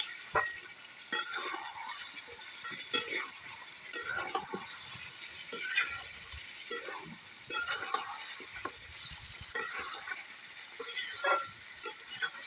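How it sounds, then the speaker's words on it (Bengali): Chicken for biryani sizzles and fries in a pan while a spoon stirs and scrapes it in irregular knocks, close and steady with no talking. "সুন্দর করে কষায় নিতে হবে।"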